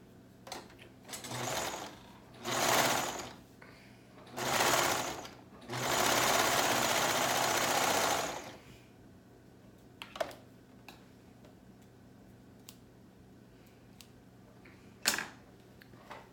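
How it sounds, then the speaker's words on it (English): A sewing machine closes a hole in a high-low garment with three separate stitching runs, two short bursts and then a longer steady one, followed by quiet handling clicks and a sharp tap near the end. "we can sew the hole shut"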